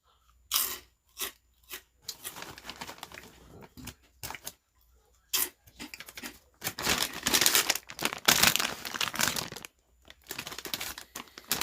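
Loud, close crunching of crispy fried shrimp crackers (Saeukkang) being bitten and chewed, in irregular bursts with short pauses between bites.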